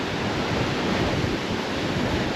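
Strong open-sea ocean waves on the coast of Aparri, Cagayan, Philippines give a steady, loud roar of surf with wind noise mixed in, continuous and close, with no voices.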